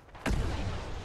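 A heavy explosion in the Fallout 76 video game booms suddenly and loudly, its deep rumble lingering and slowly fading after the initial blast.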